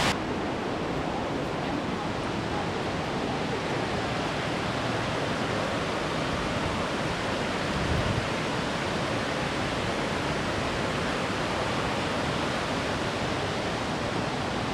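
Waterfall in Bosnia and Herzegovina, a steady, dense roar of rushing water holding even and loud throughout, broadband and unbroken with no pauses.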